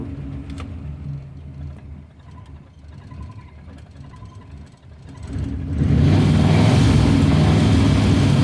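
A 1953 Ford Customline engine on choke, idling roughly at first and then revving up loudly to a sustained roar near the end, close by.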